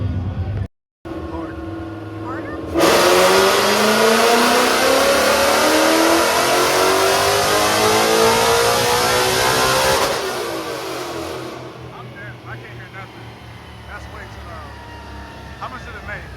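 A Ford Mustang at a performance shop open house revs hard and loud up close, one sustained high-pitched rev lasting several seconds before dropping back to a rumbling idle.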